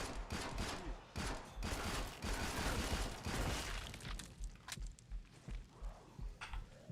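Rapid bursts of automatic gunfire in the video game Killing Floor 2 rattle out densely for several seconds, then thin into scattered single shots and mechanical clicks.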